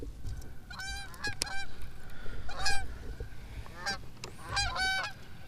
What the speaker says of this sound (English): Geese are in abundance today.